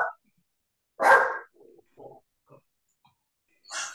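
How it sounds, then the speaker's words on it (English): Dog barking indoors, one loud bark followed by several softer, shorter yaps, with quiet pauses between them. "I know whose dog was barking."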